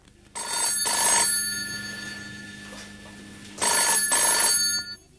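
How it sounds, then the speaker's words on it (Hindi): A telephone bell in a Hindi radio drama rings in two long, trilling bursts with a pause between, loud and nearby, with no voices. "मैं देखती हूँ किसका फोन है"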